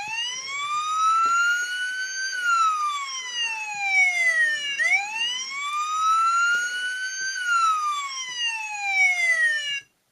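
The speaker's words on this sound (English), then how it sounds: "and you get a siren sound," Hello Carbot Fron toy police car siren, a loud electronic wail sweeping up and down in repeated cycles, close and alone for about ten seconds before cutting off abruptly.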